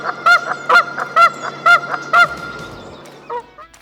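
A Canada goose honks loudly and repeatedly in a steady rhythm, about six nasal calls close by, followed by a fainter honk after a short gap.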